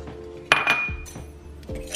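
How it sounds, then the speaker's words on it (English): Trifle powder and sugar are stirred in a bowl with a utensil, giving a few short clinks and scrapes against the bowl, close and fairly quiet. "Mix it together a little bit."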